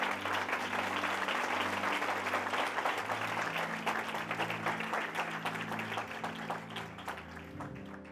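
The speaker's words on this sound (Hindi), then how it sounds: "यीशु के लिए जोरदार ताली बजाएं" Church congregation at a Christmas sermon clapping loudly in praise of Jesus, dense continuous applause over a low musical hum, gradually thinning toward the end.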